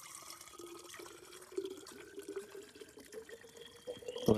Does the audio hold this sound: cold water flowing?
yes